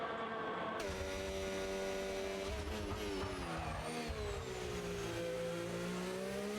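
A race car engine screaming through a hot lap at the Hungary circuit in a racing video game, a loud close whine climbing and dropping in pitch through gear changes, with faint tire noise and no talk.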